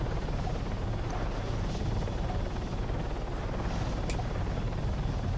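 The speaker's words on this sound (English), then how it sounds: "I mean, helicopter." Helicopter rotor and engine noise in a video game, a steady loud rumbling drone that holds through the whole stretch with faint talk mixed low underneath.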